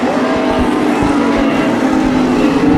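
Hobby stock race cars roar around the dirt oval at Bakersfield Speedway, a loud, sustained engine drone from several cars at once with a steady, slightly wavering pitch.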